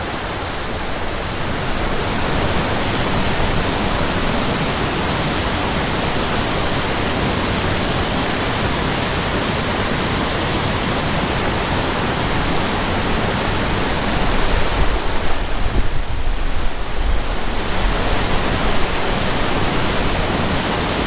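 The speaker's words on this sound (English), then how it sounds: "the little cascades and riffles. It's loud." Mountain creek water rushing loudly over little cascades and riffles, a steady, dense, close roar that swells slightly toward the end, with no voices.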